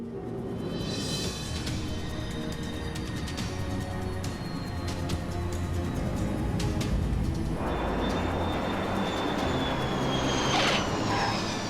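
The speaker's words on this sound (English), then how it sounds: "The plane hit the ground hard" Heavy airliner noise with a steady low roar that swells into a harsher broadband rumble partway through as the plane hits the runway hard, with high whining tones above, continuous and loud throughout.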